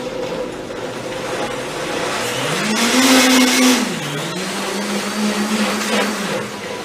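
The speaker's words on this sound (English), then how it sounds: "good to start the blender on low speed" A kitchen blender runs at low speed, its steady motor whine swelling louder and higher for about a second midway before settling back to an even drone. No one speaks.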